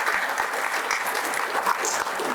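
An audience applauds a chief guest at an artificial intelligence symposium, with steady, full clapping from many hands continuing throughout.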